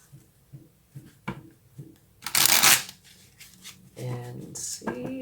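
Tarot cards are shuffled by hand in a series of short riffling bursts, then a longer louder shuffle, with a voice speaking briefly near the end.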